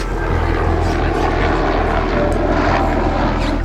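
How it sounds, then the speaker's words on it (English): A loud helicopter close by in Kruger National Park, South Africa, its rotor thumping and engine roaring steadily throughout with no voices. "There is a helicopter."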